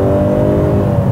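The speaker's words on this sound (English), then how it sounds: "It does get a little loud if you put your foot down, but it's only a four-cylinder engine." Four-cylinder engine of a 2021 Honda CR-V Hybrid droning steadily under hard acceleration, heard from inside the cabin as a loud, continuous hum with no talking.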